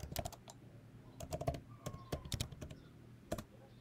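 Keystrokes on a MacBook keyboard as a password is entered, a quick irregular run of close, crisp key clicks in small bursts with short pauses, no voices.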